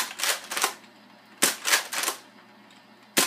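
Sharp, loud toy-gun shots from a Nerf blaster fired at a Pepsi bottle, a few clustered pops at a time with short quiet gaps between bursts and no talking.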